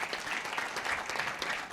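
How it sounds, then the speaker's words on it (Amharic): A church congregation claps together in praise at a gospel gathering, a dense, steady burst of many hands applauding close by, brief and continuous without pause. "አጨብጭቡ ለጌታ ክብር"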